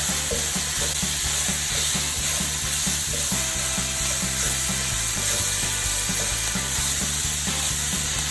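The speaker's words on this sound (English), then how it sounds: "both the onions and the peppers will release some of the liquid, and that's good. So we're gonna give it a good stir." Onions and peppers sizzle steadily in a pan for a Cajun jambalaya pasta while being stirred, with a continuous loud frying hiss and repeated low scraping strokes close up, and no talking.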